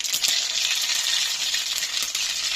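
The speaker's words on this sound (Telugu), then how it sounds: "చూసారు కదండి, నూనె కాగిపోయింది." Mustard seeds hit hot oil for aloo upma curry and set off a bright, steady sizzle with small crackling pops, loud and close throughout.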